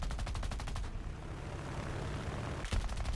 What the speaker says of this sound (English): I'm able to get a couple more shots off on him